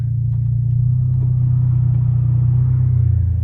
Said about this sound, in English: What I'm gonna do real quick is start up the car